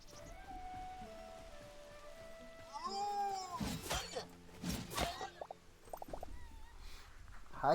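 A cat in the Hytale video game meows in a few rising and falling cries, moderately close, over soft pattering rain-like ambience and faint game tones.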